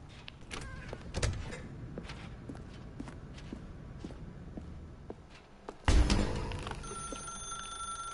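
A telephone rings in a dark room in The Stanley Parable, a steady electronic tone entering after the game character's soft footsteps and clicks, fairly near and alone without talk.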